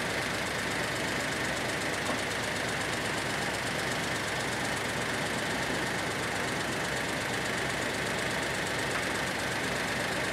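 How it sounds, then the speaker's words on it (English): Car engine idling smoothly, a steady, even mechanical hum with a constant whir, close and unbroken throughout with no voices. "That's what a good running engine should look like."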